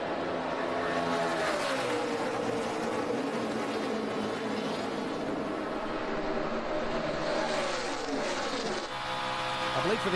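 Stock cars race at the 2012 O'Reilly Auto Parts 300, a sustained distant roar of engines sweeping past with rising and falling pitch, under a race commentator talking throughout.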